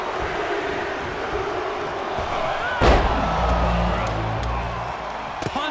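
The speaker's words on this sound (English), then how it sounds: "He is delivering elbow after elbow." Elbow strikes land in a WWE 2K22 six-man Elimination Chamber match with the U.S. title at stake. One loud, heavy slam cuts through a constant roaring arena crowd, and a commentator talks over it.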